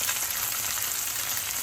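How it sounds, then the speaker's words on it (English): Salisbury steak patties fry in hot oil, a steady bright sizzle with crackling spatter throughout and no voices. "when you're frying something"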